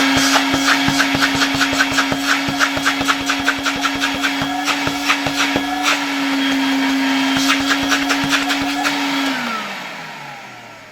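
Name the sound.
Zelmer vacuum cleaner running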